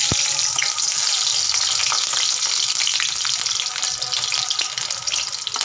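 Dried and green chillies fry in hot ghee in a pan, giving a steady, close sizzle with faint crackles throughout and no voices.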